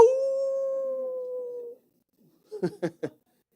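A preacher imitates a howling dog with his voice: one long sustained howl, then a pause and three short yelping bursts.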